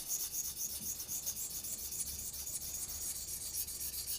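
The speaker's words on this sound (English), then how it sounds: "polish out the scratches from the 300." Steady, quiet rubbing rasp of a knife blade stroked across a 600 grit stone on a KME sharpener, polishing out earlier scratches, with continuous close friction and no voices.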